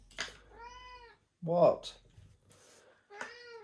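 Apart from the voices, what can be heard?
cat meowing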